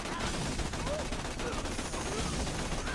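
A rapid-firing spinning gun in the video game Borderlands 2 delivers dense, continuous gunfire, loud and close, with a few faint game sounds mixed into the stream of shots.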